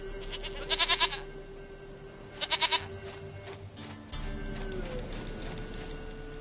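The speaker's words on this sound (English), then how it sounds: "Goat of mine, dearest, sweetest goat." Goat bleats in The Witcher 3 Wild Hunt, two short trembling bursts, fairly close, over a steady game ambience with low background tones and a later rumble.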